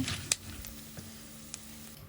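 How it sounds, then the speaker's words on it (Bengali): Peanuts fry gently in mustard oil over medium heat, giving a faint, low sizzle with a few soft clicks and pops from stirring. "এটাও মিডিয়াম হিটে আস্তে আস্তে ভেজে নিব যাতে পড়ে না যায়"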